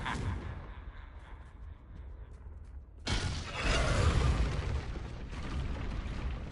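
In the video game Hogwarts Legacy, a Confringo fire spell goes off midway as a sudden loud, booming blast. A rumbling, crackling roar follows it and fades slowly over the quieter game ambience.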